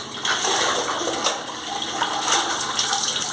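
Continuous splashing and running water as someone quickly washes their face, hands and feet with water from a tank on a farm, steady and close throughout with no talking.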